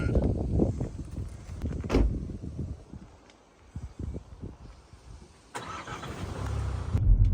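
A car engine starts up close by and settles into a steady idle, preceded by a few soft knocks and shuffling sounds.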